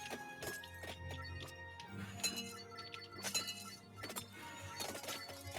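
Bright glassy clinks and chimes ring out repeatedly from the Glass Fandango weapon in the game Vampire Survivors, layered over busy game sounds with scattered sharp shattering accents.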